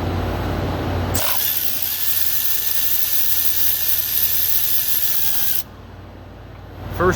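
Power tool whirring steadily for several seconds while removing a bolt from a Ford Super Duty, then cutting off abruptly, leaving quieter background hum.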